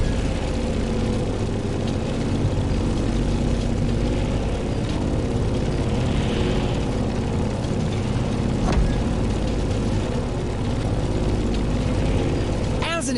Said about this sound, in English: In the cockpit of a stunning Grumman F8F Bearcat